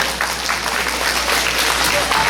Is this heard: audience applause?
yes